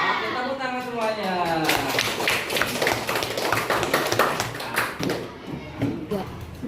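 Students in a classroom clap their hands together in a dense burst of rapid, overlapping claps, loud and close, with a voice speaking at the start.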